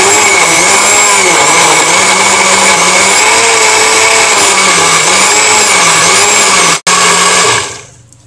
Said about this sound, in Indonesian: Kita blender sampai halus ya,